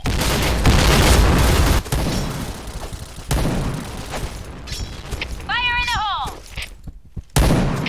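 Loud in-game gunfire and booming blasts burst through a chaotic firefight, including a grenade detonation, with a short rising electronic chirp near the end and players shouting over the din.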